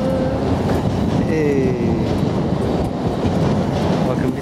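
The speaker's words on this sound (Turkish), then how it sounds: "Bakın bir tarafı tren" A train rumbles past steadily beside the Rhine in Cologne, heard from a bridge as a loud continuous roar with wind noise and faint squeals, and people talk in the background.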